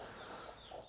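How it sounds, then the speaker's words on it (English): Hens with young chicks on a homestead, giving soft, steady clucking and murmuring calls close by for just under a second, with no talking. "I've got few hens that have little baby chicks"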